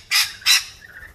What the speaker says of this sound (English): lovely little rainbow lorikeets having their breakfast on my deck.